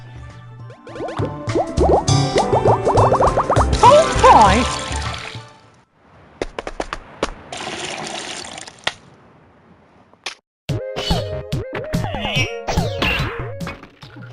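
Splashy, trickling water and drip effects from the Where's My Mickey mobile puzzle game run in bursts over game music, with a short pause midway and a brief voice exclamation.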